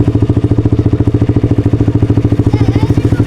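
Modified Honda CBF motorcycle engine idling steadily up close, a fast even thumping pulse with metallic clatter throughout, loud and continuous with no talk.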